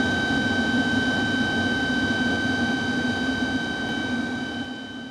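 Variable-pitch air turbine for a wave energy pilot plant spinning at around 500 RPM, a loud, steady mechanical roar with a constant whine and low rumble throughout, easing slightly at the close.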